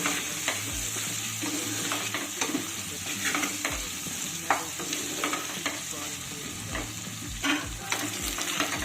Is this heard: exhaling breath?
no